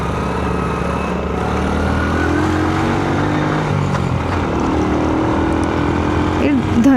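A Honda CD 70 motorcycle's small single-cylinder engine drones steadily while riding on the road near a toll plaza, loud and continuous with rising harmonic whine and wind rush throughout.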